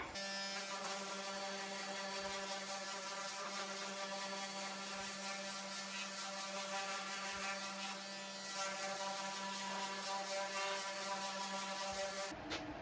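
An electric power sander sanding wood whirs continuously with a steady buzzing hum, close by, its pitch shifting slightly with brief pauses in contact.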